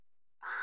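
A single crow-like caw from a bird in the video game Tomb Raider 2, one harsh drawn-out call near the end, alone after a brief hush and clearly audible.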